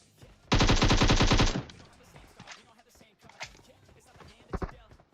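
A short, rapid burst of automatic gunfire from the video game PUBG Mobile rings out for about a second, followed by scattered thumps and quieter clatter.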